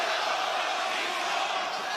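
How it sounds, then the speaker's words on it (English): A raucous wrestling crowd fills an Atlanta arena during a women's tag match, a steady, dense roar of mixed cheers and voices holding loud and even throughout with no single standout shout. "You can hear the 50-50 split between the raucous crowd here in Atlanta."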